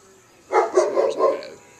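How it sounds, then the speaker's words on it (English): Pet dogs barking at a neighbors' dog outdoors, a short burst of four or five close, loud barks in quick succession after a quiet moment. "And their dog's out, so it's getting my dogs interested."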